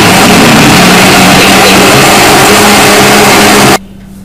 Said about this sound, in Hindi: ब्लेंडर को आपने जो है ऑन कर लेना है।